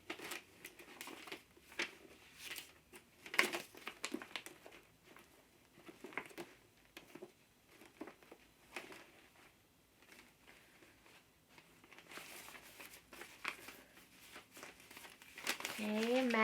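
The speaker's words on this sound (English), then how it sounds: "I'm going to pull book pages out." Book pages being torn out while a journal is prepared, giving soft, faint paper crinkling and ripping in short bursts, broken up by quiet pauses and interrupted by close speech.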